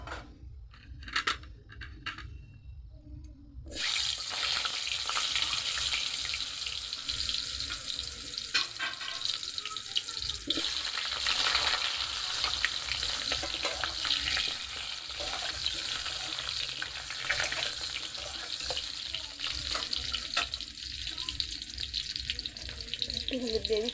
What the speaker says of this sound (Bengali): বেগুনগুলো ভাজা হয়ে গেছে, এবার আলুগুলো ভেজে নেবো।